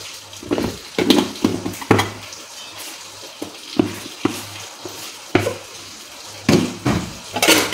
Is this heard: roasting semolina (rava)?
yes